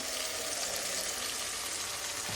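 Cumin seeds fry in a hot pan with a continuous crackling sizzle, close and steady, ending with a faint clink near the end and no voices.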